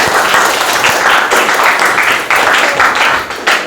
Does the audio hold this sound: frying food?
no